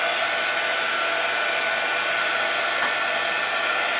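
A hair dryer blows steadily to dry paint on a craft flower canvas, a loud, continuous broadband whoosh holding level for the whole stretch with no voices.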